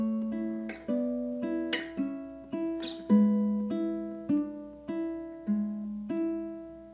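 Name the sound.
ukulele playing classical piece bars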